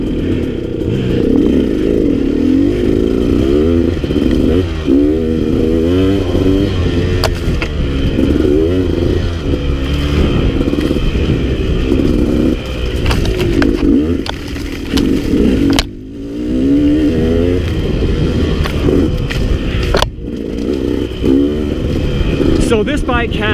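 A KTM 250XC two-stroke dirt bike engine revs and burbles in repeated rising and falling bursts, with clattering and a few sharp drops, while someone talks over it throughout.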